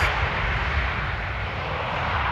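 An airliner touches down on a runway at Amsterdam airport in the rain, heard as a steady, loud, broad roar of jet engines and rushing air that holds throughout with no pauses.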